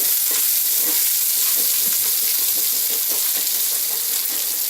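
Bacon frying in a pan while being stirred, a loud continuous sizzle with soft scraping and moving strokes underneath, close up.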